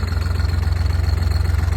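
A New Holland tractor engine fitted with a turbo silencer idles steadily close by, a low, even rhythmic throb pulsing about fifteen times a second with no voices.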